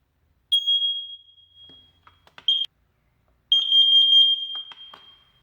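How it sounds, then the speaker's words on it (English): Smoke detector alarm blaring in a shrill, steady, close tone during a test, in two long bursts separated by brief gaps, with a short chirp in between. "so let's make sure that these work."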